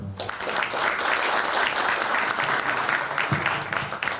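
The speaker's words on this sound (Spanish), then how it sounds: "Aplausos, por favor." Audience applause at an international academic conference on environmental indicators, a full burst of clapping from a seated crowd that holds steady for several seconds before thinning out.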